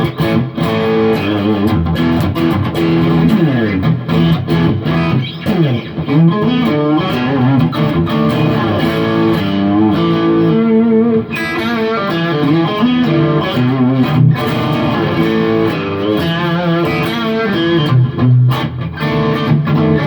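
2018 Gibson SG Standard HP electric guitar in Blood Orange Fade played loud through its coil-tapped bridge pickup, with a steady electrical hum beneath sustained, slightly distorted chords and single notes, no talking.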